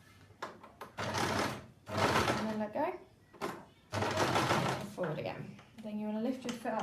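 A sewing machine runs a back stitch during a child's first sewing lesson, whirring in several loud bursts of a second or so with short pauses between, while voices talk in between.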